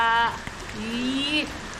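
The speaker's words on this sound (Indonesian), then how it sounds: "Ini hujan guys, ya Allah. Hujan gelap." Rain pattering onto an outdoor swimming pool at night, a steady wash of drops beneath louder, high-pitched voices calling out over the short stretch.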